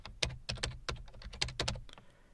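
Quick bursts of keystrokes on a computer keyboard, a dozen or so crisp clicks in uneven rhythm, close and fairly quiet, with no talking over them.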